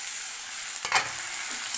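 Green peas tossed into a hot wok with tomato sizzle softly as a utensil stirs them, a brief scraping clatter near the middle over a constant low frying hiss.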